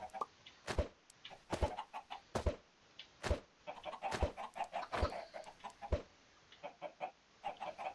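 Chickens in the video game Minecraft cluck in short, sharp repeated calls at an irregular rhythm, fairly close and clear, with nothing else heard over them.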